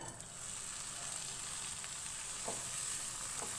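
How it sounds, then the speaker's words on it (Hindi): Chopped onions frying in hot oil for Punjabi chicken karahi, a continuous close hiss and crackle with a couple of faint stirring scrapes near the end. "ऑयल गर्म हो गया है। अब हम इसके अंदर प्याज ऐड करेंगे।"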